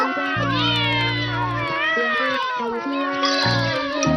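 Cartoon cats meow repeatedly, their rising and falling cries overlapping loudly, with a low steady background drone underneath.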